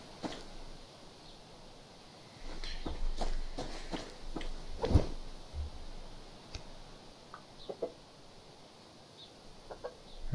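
Chickens clucking in the survival video game Subsistence, scattered short calls over a low outdoor ambience, with a few soft footsteps and ticks, no talking.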